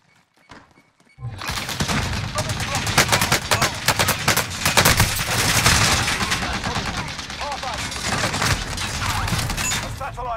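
Gunfire erupts in Call of Duty: Warzone during a payload match. After a brief quiet start it becomes loud, continuous automatic fire with heavy thumping impacts and scattered explosions, and radio voices talk under the battle.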